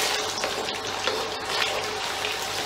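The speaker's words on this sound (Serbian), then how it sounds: "Pržimo kuvano meso." Boiled pork pieces frying in hot oil in a home kitchen for Chinese-style sweet and sour pork, a steady, close crackling sizzle with a watery bubbling texture running continuously without pause.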